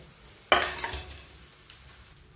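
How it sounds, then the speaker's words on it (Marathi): Peanuts poured into a pressure cooker to roast give a sharp metallic clatter and rattle against the pot, followed by faint scraping and light sizzling, close and brief, with no talking. "पहिल्यांदा शेंगदाणे घालायचे, भाजून घ्यायचे आपल्याला."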